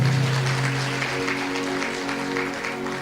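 A church congregation applauds during a sermon, a dense wash of clapping that slowly fades over a few seconds with a low steady hum beneath.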